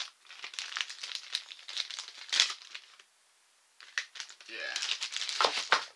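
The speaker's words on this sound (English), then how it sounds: "Kind of cute little plastic bag." A small plastic bag crinkles and rustles close up while gear is unpacked, in bursts of crackling handling with a short quiet gap before more vigorous crumpling.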